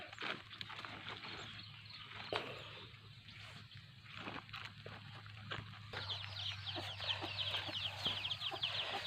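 Chickens cluck and cackle nearby over a low steady hum, with a burst of busier, higher squawking toward the end.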